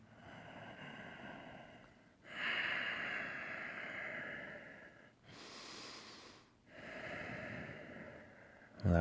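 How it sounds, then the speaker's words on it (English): Deep, slow breaths drawn and released in a quiet room during a reclined yoga pose, with two long swelling inhales and exhales, close and soft, one ending in a faint sniff. "Just breathe."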